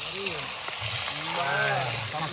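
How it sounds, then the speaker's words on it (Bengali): Fish frying in a pan at a night campsite in the Sundarbans, a steady close sizzle with a low hum beneath and faint indistinct voices in the background. "সবাই বসে রয়েছে মাছ ভাজা যাচ্ছে"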